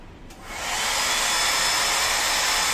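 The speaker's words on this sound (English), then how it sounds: "And then my hair dryer." Hair dryer blowing on a freshly dyed neon pink handlebar mustache, switching on after a brief quiet start and then holding a steady, loud, close whooshing roar with a faint high whine.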